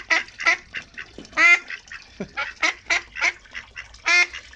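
A pet duck quacks repeatedly in short, loud bursts close by, a rapid series of about a dozen calls with no talk.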